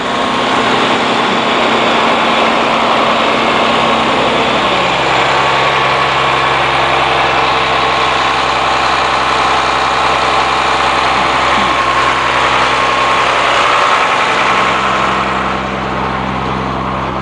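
The Caterpillar C7 7.2-liter turbo diesel in a 2006 Bluebird Excel transit bus idles loudly and steadily, a constant deep rumble with a whining turbo hiss, heard up close without talk.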